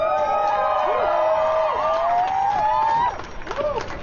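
A crowd at a street protest whoops and cheers, with rising and falling shouted calls forming a loud, continuous wash of voices nearby that briefly dips near the end.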